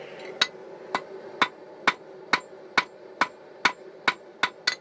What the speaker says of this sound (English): as I hit it with a hammer, the hammer will create one side